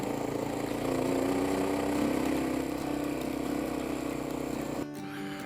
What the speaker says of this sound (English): Oh yeah, tractor power.